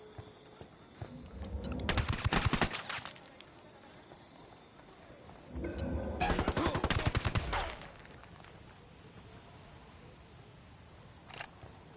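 Two long bursts of rapid automatic gunfire in Ghost Recon Wildlands, loud and dense, separated by a quieter lull with a single sharp shot near the end.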